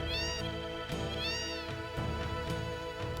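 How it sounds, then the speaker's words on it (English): Cats meow in the Wutai area of the video game Final Fantasy VII, several drawn-out rising and falling meows repeating over a steady music bed. "Look at all the cats!"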